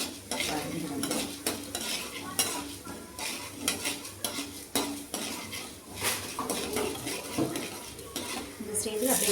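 Chana dal and urad dal roast in a pan, stirred with a metal utensil that scrapes and clinks steadily against it over a faint sizzle, close by.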